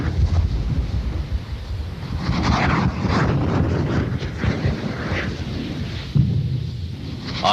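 A cluster of eight rockets launches the Giant Viper mine-clearing hose, packed with explosive, across a minefield, producing a loud, continuous roaring rumble with gusty buffeting that persists throughout.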